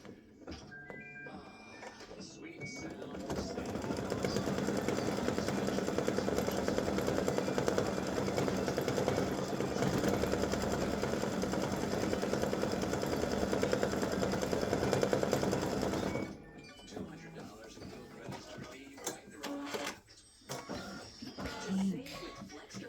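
An embroidery machine stitches leaf veins on a one-piece mug rug, a steady mechanical whirring hum running for about thirteen seconds before stopping, followed by quieter handling clicks and knocks.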